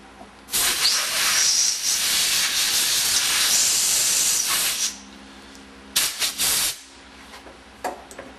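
Compressed air blowing off a cleaned drain plug from a Meyer E-47 snowplow pump: a loud, close blast of hissing air for about four seconds, then a shorter burst of two quick puffs and a faint final puff.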